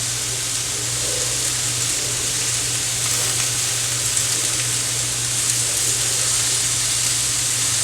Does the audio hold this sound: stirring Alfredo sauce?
yes